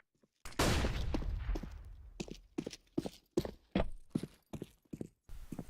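A flashbang grenade goes off in the video game CS:GO with one loud burst that trails off, followed by a series of sharp, irregular cracks like gunfire and footsteps.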